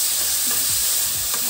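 Brinjal pieces, soaked in salt water, being fried and stirred in a pan for an anapa bean masala curry, producing a loud, continuous close sizzle with scraping stir strokes and no voices.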